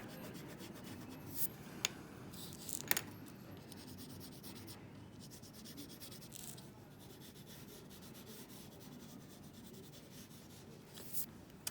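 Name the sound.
pencil drawing being erased with an eraser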